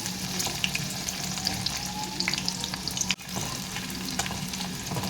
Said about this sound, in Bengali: এটাকেও তেলের মধ্যে দিয়ে কিছুক্ষণ ভেজে নেবো